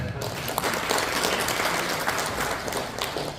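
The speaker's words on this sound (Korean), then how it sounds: "제가 지금 동시에 박수 한번 주실까요?" An audience at a regional policy talk claps together in sustained, dense applause that holds steady at a fairly loud level for the whole stretch.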